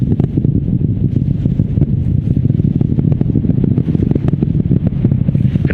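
Artemis 2 rocket main engines roaring during launch, a loud continuous low rumble with crackling texture, steady throughout with no pauses and no voices.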